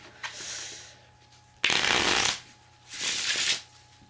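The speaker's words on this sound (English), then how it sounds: "I'll shuffle it up because nobody's here with me right now" Three bursts of a deck of cards being shuffled, riffling crisply up close, with short pauses between them.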